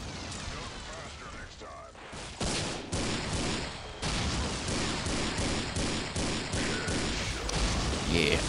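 Dense, continuous gunfire and explosive blasts from rocket launchers and firearms in the Unreal Tournament 2004 video game with a Ballistic Weapons mod, loud and sustained with repeated sharp bursts throughout.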